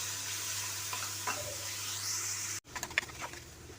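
Tomatoes hit a pan of frying onions with ginger-garlic paste for a butter bean gravy, giving a steady, loud sizzle that cuts off abruptly, then returns softer with scraping stirring noises close by.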